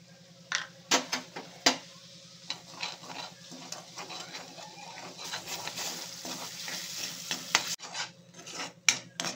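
Spices crackle and spit as they are tempered in hot oil in a kadhai, with sharp irregular pops and scrapes over a soft sizzle, fairly quiet and with no voices.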